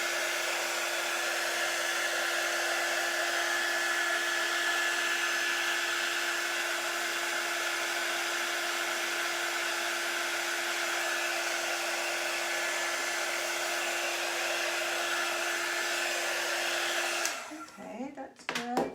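A hair dryer blows steadily and loudly at close range, drying paste on a taped-off craft transfer; the even whirring holds without a break for about seventeen seconds, then cuts off and is followed by brief handling noises.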